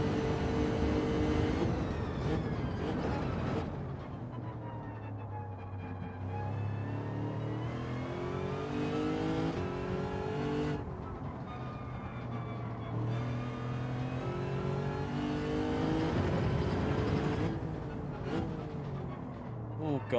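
A race car engine in Gran Turismo 7 during a daily online race, rising and falling through repeated revving sweeps and gear changes over about twenty seconds, loud and continuous with a player talking over it.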